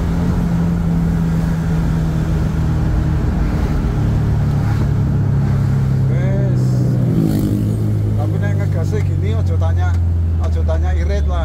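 A VW Combi with a double Blackcore engine pulls hard, its loud, steady engine roar shifting in pitch as it accelerates, with people talking over it inside the cabin.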